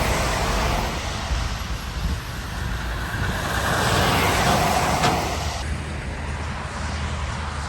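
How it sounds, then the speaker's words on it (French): Heavy vehicles, likely trucks, rumble past on a road in the United States, a steady broadband roar of traffic that swells and fades as they go by, with no talking. "En attendant, beaucoup de camions."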